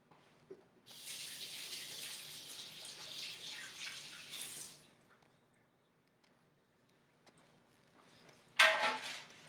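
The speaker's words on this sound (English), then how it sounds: "I'm gonna wash my hands." Water runs from a sink tap for handwashing in a home kitchen, a steady broad rush lasting several seconds, then stopping before a short sharp splash near the end.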